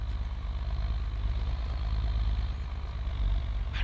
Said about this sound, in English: I really like this Ford tractor.